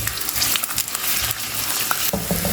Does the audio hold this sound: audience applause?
no